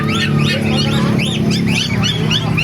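Many birds calling and chirping at once over a busy, steady background din at the Bocaue flea market in the Philippines, with honking and squawking mixed into the crowded chatter.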